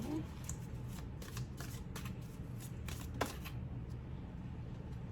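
Tarot cards being shuffled by hand, giving a run of quick riffling bursts close to the microphone over a quiet room hum, with a sharper snap near the end.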